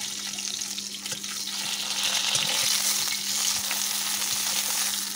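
Pieces of rohu fish, taken from the fridge, frying in hot oil for a village-style curry, giving a steady close sizzle and crackle that swells slightly and continues throughout, with no talking.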